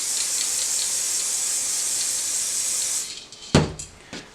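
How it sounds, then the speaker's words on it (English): Layering spray hisses steadily from an aerosol can onto a model tree being made with 2mm static grass, a continuous close spray lasting about three seconds, then stopping, followed by a couple of sharp handling knocks. "Add layering spray to it"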